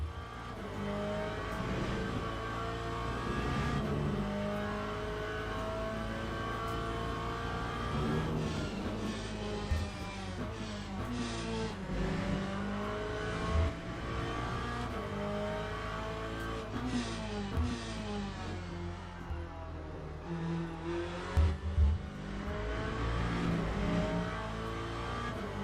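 Corvette race car engine in the racing game Le Mans Ultimate, a continuous loud engine roar with repeated revving rises and drops as gears shift, with occasional brief tire noise, running steadily throughout.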